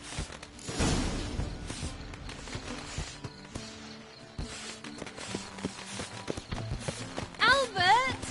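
Horses clip-clopping in The Witcher 3 on PS4, steady hoofbeats running through the stretch with game music and voices layered over them.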